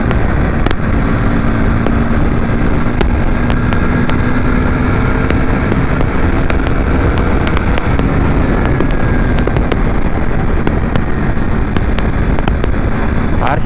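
A KTM RC 390 motorcycle is ridden on a breakfast ride with friends, its engine droning loudly and steadily throughout, with wind rush and sharp popping bursts scattered over the top.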